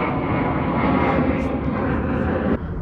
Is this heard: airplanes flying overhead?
yes